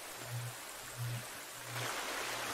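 A waterfall in The Forest video game rushes as a steady watery hiss, with low rhythmic thumps repeating under it.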